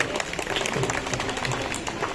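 An audience at an inauguration ceremony breaks into dense, steady applause welcoming a speaker, the clapping filling the whole moment at a moderate level.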